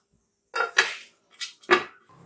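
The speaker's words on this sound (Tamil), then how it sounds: "மூடி போட்டுடலாம்." Metal clanks against cookware in a few quick, close knocks and scrapes as a lid is set and shifted onto a clay pot of stingray fish curry, with short silences between.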